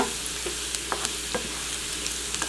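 Greens frying with bacon, garlic and onion in a hot pan are stirred, giving a steady close sizzle broken by several light scraping and clinking strokes at an irregular pace.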